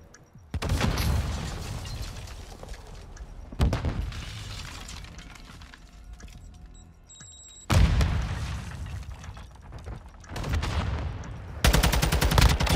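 Loud bursts of automatic gunfire and sharp single shots come in several separated volleys during an online Call of Duty bomb-defusal match, with quieter gaps between them and no talking.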